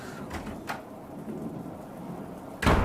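Steady rain patters throughout with faint rumbles of thunder, and a sudden louder crack of thunder bursts in at the very end.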